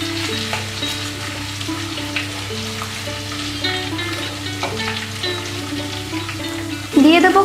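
Chopped green chillies dropped into hot oil and frying for sabudana khichdi, a busy crackling sizzle over a steady hum, with a musical tone running underneath and a louder burst near the end.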